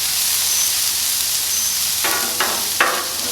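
Onions sizzle on a griddle for White Castle-style burgers: a steady, bright frying hiss that swells into several crackling bursts near the end.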